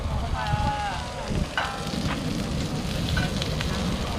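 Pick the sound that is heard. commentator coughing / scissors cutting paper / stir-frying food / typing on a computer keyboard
stir-frying food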